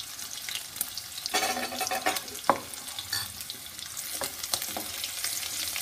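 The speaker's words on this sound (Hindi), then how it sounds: "ये दालचीनी का टुकड़ा है, 1 मोटी इलायची और 4 से 5 लौंग है, ये भी हम डालें।" Cinnamon, a black cardamom pod and a few cloves fry in hot oil for a sweet turnip pickle, a steady close sizzle with crackling spurts and a sharp pop partway through, with no talking.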